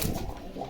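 Pigeon cooing at a busy pigeon market in Bogura: a brief, low, throaty coo close by, heard alone without talk over it.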